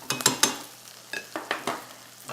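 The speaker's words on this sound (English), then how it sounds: "ham is browned, my cheese is browning." Ham and cheese brown in a skillet with plenty of butter, giving a soft sizzle broken by several sharp scraping stirs and utensil clatters in quick clusters, close and alone.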